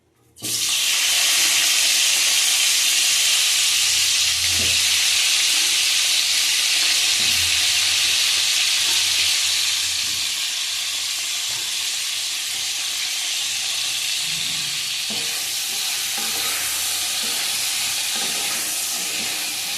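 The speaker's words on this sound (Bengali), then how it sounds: "ফুলকপিগুলি ভেজে নেবো" Cauliflower pieces frying in hot oil, a loud, steady broadband sizzle that starts abruptly and carries on evenly throughout, easing slightly halfway, with faint occasional clinks and no speech.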